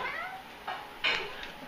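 A cat playing with a string gives a short, close meow, followed by a couple of brief faint clatters and a slightly louder thump.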